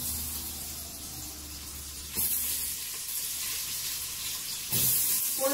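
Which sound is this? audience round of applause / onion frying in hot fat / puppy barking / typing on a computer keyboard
onion frying in hot fat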